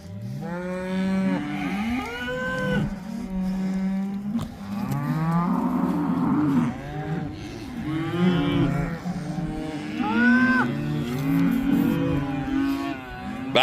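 Cattle and calves in a corral moo repeatedly and loudly, several animals overlapping in long drawn-out calls with a few brief pauses, close by and continuous throughout.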